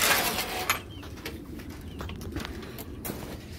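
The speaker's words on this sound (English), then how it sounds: "And then we got birds." Pigeons or doves coo softly in a backyard coop, repeated low calls over a steady outdoor background, fairly near with a few faint knocks and rustles.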